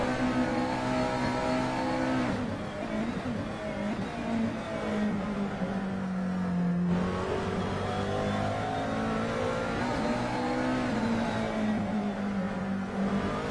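McLaren GT3 race car in a sim racing game, lapping Mugello flat out: a continuous loud engine drone with pitch rising and falling through gear changes and corners, steady throughout with no talk.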